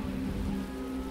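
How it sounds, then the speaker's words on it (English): Steady rain falls throughout a Resident Evil 2 game scene, a continuous even wash of noise with no distinct drops or thunder, loud and constant for the whole moment. "Why is it still raining?"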